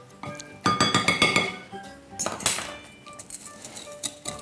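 A utensil clinks and scrapes against a bowl while cake batter of egg and vanilla is stirred for a blackberry yogurt cake, in two quick rhythmic bursts of bright, close clatter.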